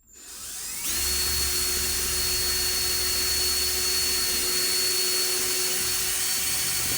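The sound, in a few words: cordless drill drilling into plasterboard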